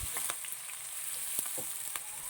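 Sliced onions and green chillies frying together in a pan, a soft continuous sizzle with a few sharp crackles and light stirring clicks, fairly quiet and without talk.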